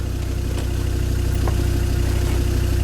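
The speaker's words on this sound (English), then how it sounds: "Engine is running." A car engine idles steadily close by with a constant low hum and no revving, and no one speaks over it.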